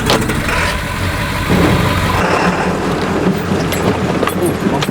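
A Ford F350 with a 7.3 Powerstroke diesel engine runs as a loud, steady low rumble heard from inside the cab, with heavy wind and road noise blended in and a brief shift partway through.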